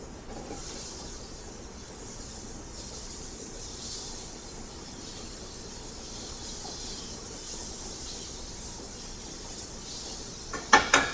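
Chicken wings and tenderloins sautéing in a hot pan, a continuous loud steady hiss and sizzle close by, with a couple of sharper pops or clatters at the very end.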